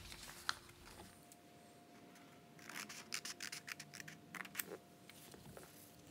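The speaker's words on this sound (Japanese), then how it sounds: "この線に沿ってハサミで切り込みを入れます。" A quick run of crisp snips and rustles, like scissors cutting through paper, over a faint steady hum in a quiet room.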